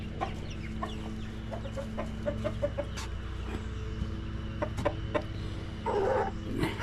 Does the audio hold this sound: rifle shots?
no